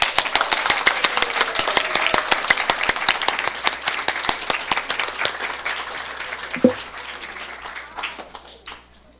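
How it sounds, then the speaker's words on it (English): Applause from a congregation at a Unitarian Universalist church service, with dense, sharp claps carrying steadily for several seconds and then thinning out as it fades toward the end. "And now let us applaud them all."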